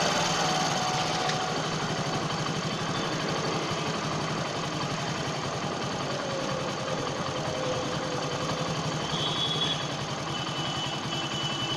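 Hero HF Deluxe motorcycle engine idling at about 800 rpm, a steady low mechanical putter and hum that runs continuously and evenly throughout, close and moderately loud with no talking.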